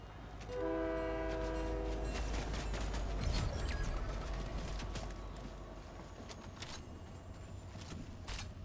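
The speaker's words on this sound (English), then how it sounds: "Oh, there's a train down here," A train passing in the video game Fortnite, its horn sounding in a long sustained blast over a loud rolling rumble of wheels and cars, steady and close throughout.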